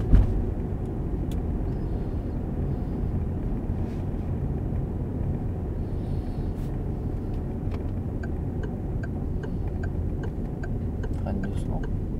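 Steady low rumble of a car driving during a driving lesson, its engine and road noise continuous and fairly quiet, with faint ticking over the top.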